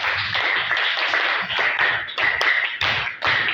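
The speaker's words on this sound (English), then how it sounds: "Could you please clap for him?" Schoolchildren at a primary school reading day clap for the school management chairman in loud, close bursts of many hands, with brief dips between rounds.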